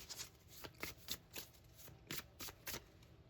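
A deck of numerology cards shuffled by hand, about ten crisp riffling flutters in a quick steady rhythm, close and quiet, with no talking.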